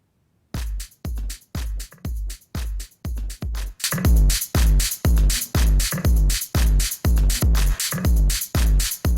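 A drum beat pushed through a Reason FET Compressor set to heavy brick-wall limiting, thumping in a steady regular loop with punchy kicks and snappy hits, growing louder and denser partway through, with no voices.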